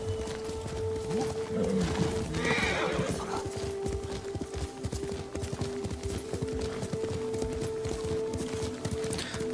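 A horse in the samurai action game Ghost of Tsushima whinnies loudly near the start, then its hooves clip-clop steadily over continuous ambient game noise, with no talking.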